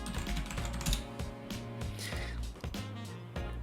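Quick clattering keystrokes on a computer keyboard, a close, continuous run of typing with a few louder taps mixed in.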